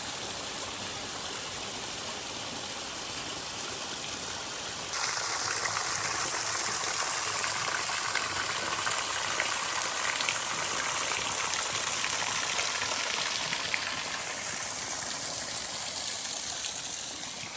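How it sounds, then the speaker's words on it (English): A small waterfall at McConnells Mill State Park, Pennsylvania, in winter, rushes continuously nearby, a steady broadband splashing that grows noticeably louder a few seconds in and stays full. "Just made it to waterfall number 2."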